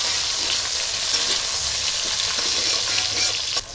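Chopped tomato hits hot tempering spices in a pan, giving a loud, steady sizzle and frying hiss that runs unbroken at close range, with a faint stir near the end and no talking.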